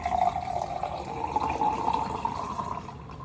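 Water is poured into squeezed lemon juice, a steady trickling stream running for a few seconds close by and fading slightly at the end, with no talking.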